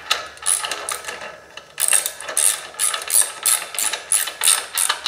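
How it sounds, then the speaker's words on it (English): A ratchet wrench tightens clutch pressure plate bolts on a small-block Chevy V8 in a rebuild. There is an early burst of clicking, then a steady series of rapid ratcheting strokes, each a crisp metallic clatter, close and loud. "And then you can go in and bring all of these bolts up."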